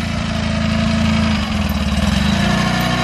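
Mercury four-stroke outboard motor runs close by on choke after carburetor repair, a steady rhythmic low-pitched chugging with an even pulsing beat and no talking.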